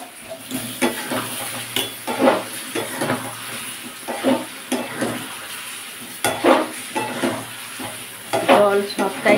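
Hog plums for a sweet-and-spicy pickle are stirred in a hot pan, with a steady sizzle broken by repeated scraping and clinking strokes of the spoon against the metal throughout.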